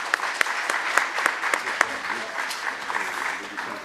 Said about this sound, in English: A round of applause for our dignitaries, please.